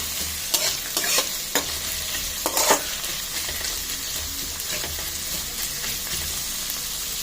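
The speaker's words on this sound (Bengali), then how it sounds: "পেঁয়াজগুলো একটু হালকা করে ভেজে নেব।" Chopped onions fry in a pan for a mutton-fat ghugni, sizzling steadily close up while a utensil stirs and scrapes them in a few sharp bursts.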